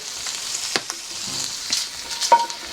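Cabbage sautéing in a hot pan, a continuous bright sizzle with occasional scraping stirs and small pops, close and fairly loud with no talk.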